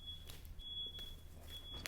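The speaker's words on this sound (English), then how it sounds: "Forgive the beeping, it's outside." A thin electronic beep sounds repeatedly from outside, a faint, high, sustained tone that drops out and returns, distant and soft behind quiet room noise.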